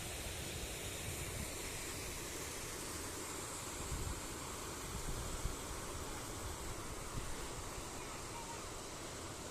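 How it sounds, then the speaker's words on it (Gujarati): A broad, unbroken roar of the rushing Banas River fills the scene, loud and steady throughout. "બનાસ નદીનું પાણી હાલમાં કુપટ ગામ સુધી પહોંચી ગયું છે"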